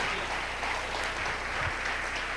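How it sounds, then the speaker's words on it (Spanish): A church congregation claps steadily for the King during a Spanish-language sermon, a dense wash of hands filling the room at an even level for a couple of seconds, with no voices over it. "Dele un aplauso al Rey con todo su corazón."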